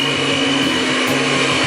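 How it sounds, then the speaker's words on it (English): A hand mixer fitted with a dough hook kneads pizza dough, its motor whirring loud, close and steady throughout. "You can see hand mixer with a dough hook attachment."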